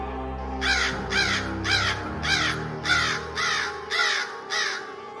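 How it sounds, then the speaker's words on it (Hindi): A crow caws loudly and repeatedly from a tree, about eight harsh calls in a steady rhythm, close and clear against a quiet background. "पेड़ में बैठे हुए एक कौवे ने लकड़बग्घे को देख लिया और वो जोर जोर से चिल्लाने लगा"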